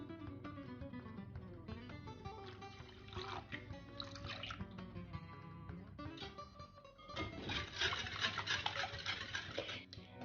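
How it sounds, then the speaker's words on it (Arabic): Milk, oil, sugar and flour stirred together in a mixing bowl, a continuous soft swishing and sloshing with light utensil scrapes against the bowl. The mixing grows busier and louder toward the end, close up, with faint music underneath. "غادي نخلطوا جميع المكونات مزيان حتى يذوب لينا داك السكر"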